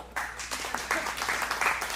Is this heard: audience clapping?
yes